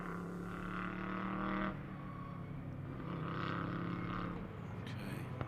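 GT race cars at Virginia circuit weaving to scrub their tires before a race, engines droning steadily at a distance with a shifting, layered hum.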